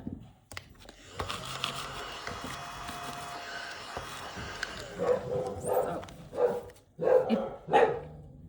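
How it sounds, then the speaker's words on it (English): Several dogs bark at a door in a home, a burst of loud, close barks and yips coming in quick clusters near the end after quieter rustling. "If you guys hear my dogs, I'm sorry. I think someone's at my door"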